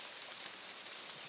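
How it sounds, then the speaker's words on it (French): Rain patters steadily as an even, faint hiss of drops on a surface, continuous and unbroken with no voices. "Je me protège de la pluie."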